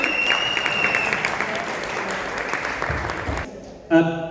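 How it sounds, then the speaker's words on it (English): Audience applause at a magic show in Cape Town, a loud, steady burst of clapping that cuts off near the end before a voice briefly speaks. "Round of applause for Ajin."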